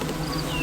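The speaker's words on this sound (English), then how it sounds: "Hang on, bees." Honey bees buzz around an open hive during a brood box addition, a brief close, steady drone with a few individual bees whining past near the microphone.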